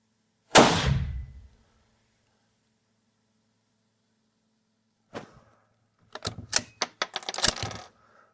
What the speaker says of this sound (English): the shell casing ejects lightly, controlled only by that spring